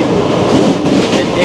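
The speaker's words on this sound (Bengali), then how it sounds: "কোটচাঁদপুর স্টেশন থেকে আমাদের ট্রেনটি ছেড়ে দিয়েছে।" Sagardari Express passenger train rolling along after leaving Kotchandpur station, a steady loud rumble of wheels and carriage noise with faint clickety-clack, continuous throughout.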